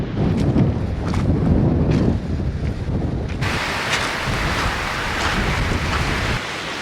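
Cold, strong wind buffets the microphone on a beach at low tide, a continuous rushing roar with gusty swells and no voices.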